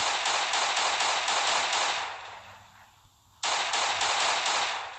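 Gunfire in the mobile survival game Last Day on Earth: a rapid string of loud, evenly spaced shots that fades, then a fresh burst of sustained firing starts abruptly.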